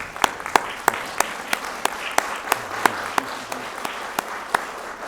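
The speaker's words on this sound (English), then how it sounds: "give them a round of applause" A crowd at a Fall 2021 graduation celebration for the Bush School of Government and Public Service applauds the candidates, with steady massed clapping punctuated by sharp, evenly spaced louder claps nearby.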